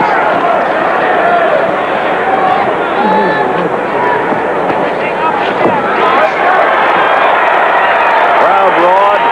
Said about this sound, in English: Crowd roared over a Cobb left.